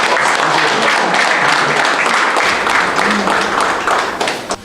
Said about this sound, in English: Please give him a very big applause.